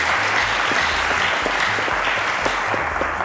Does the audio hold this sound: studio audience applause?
yes